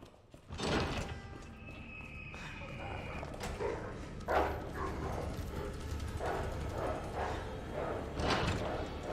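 Dogs barking in the Resident Evil 2 video game: several sharp barks and yips at intervals over a noisy background, moderately close, with a faint voice briefly present.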